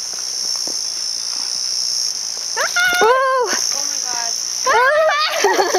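A rainforest insect chirps in a steady, shrill, unbroken drone that runs through the whole stretch, while excited voices exclaim and shout over it in the middle and near the end.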